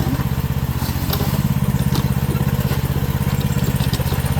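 A tractor engine runs on a rocky hillside, a loud, steady rapid chugging that holds close and even throughout with no voices over it.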